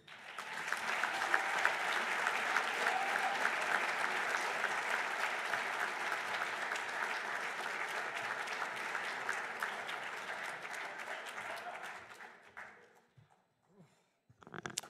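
A hall crowd at an athletics Hall of Fame ceremony claps loudly and continuously for about twelve seconds before the applause thins out and stops.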